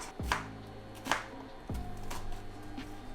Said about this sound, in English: We are going to chop some onion, saute this so it adds a little crunch to the sandwich.